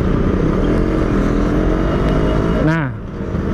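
A Suzuki Satria two-stroke motorcycle engine runs loud and close with a steady, buzzy idle, then briefly dips in pitch and drops off near the end.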